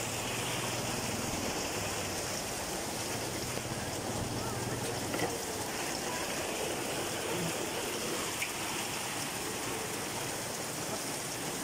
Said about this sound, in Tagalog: Lakas na ng ulan.